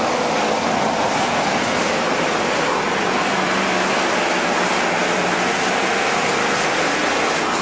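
Hot rod semi truck with a roaring engine at a 2007 truck pull in Hamburg, New York, a loud continuous high-revving drone held steady throughout with no voices over it.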